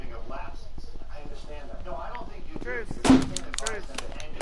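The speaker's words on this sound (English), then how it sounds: "All right, then stop shooting." Gunfire in the virtual reality game Rec Room, one loud close shot standing out amid steady overlapping chatter and game noise, with a few softer pops around it.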